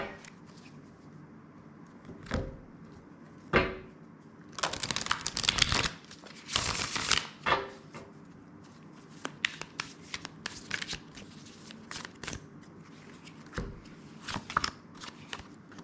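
Tarot cards being shuffled and drawn by hand during a reading: quiet rustling with several sharp riffling bursts and scattered light card flicks and taps, close and intimate, no talking.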